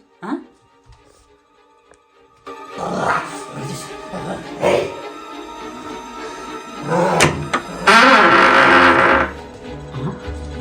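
A dog barks and growls in short, rough bursts, mixed with people talking nearby; the loudest outburst comes near the end.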